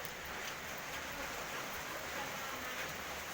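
Rain falls steadily in Laos during a storm, a faint, even hiss of water on surfaces with no break or change in strength.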